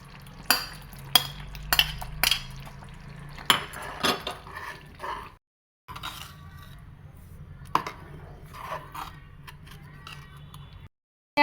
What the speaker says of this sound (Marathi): त्यात आता आपण पनीर टाकूया।